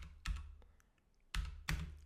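A few clicky keystrokes on a computer keyboard: a single tap, a short pause, then two more quick taps close to the microphone, with no talking.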